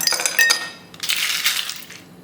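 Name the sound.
ice cubes dropped into glass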